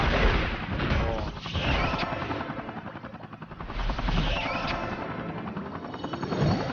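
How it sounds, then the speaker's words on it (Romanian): Helicopter in the Marvel Super Hero Squad Online video game, a steady rotor drone in the game mix that swells and fades over several seconds alongside clanking effects, with no talk. "Pare că aud un elicopter în joc."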